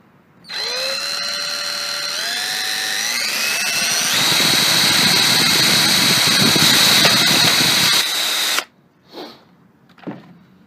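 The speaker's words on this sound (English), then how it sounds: "I'm going to take and drill a small hole right here, and we're going to put a pop rivet." A power drill bores a small hole in a Craftsman 3000 Series riding mower for a pop rivet. Its whine climbs in pitch as it spins up, holds loud and steady for about eight seconds, then cuts off, followed by a couple of brief knocks.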